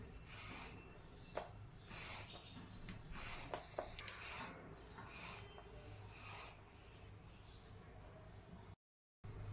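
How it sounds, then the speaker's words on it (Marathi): A large bottle gourd, cut in half, has its outer skin peeled away in close, repeated soft scraping strokes over a faint background hiss. "आता याची आपल्याला ही वरची जी साल आहे ती काढून घ्यायची आहे"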